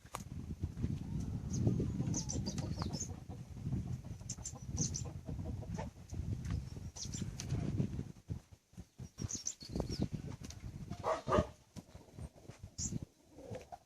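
Several chickens cluck and murmur nearby, with scattered higher calls and rustling, fairly faint amid a busy farmyard background.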